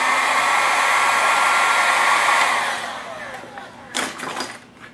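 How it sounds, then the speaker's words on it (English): A heat gun blows with a steady, loud whirring hiss as it shrinks heat-shrink tubing over a solder joint on wiring for a Tamiya semi truck's lights, then winds down, followed by a brief clatter. "Get my heat gun and shrink that one down."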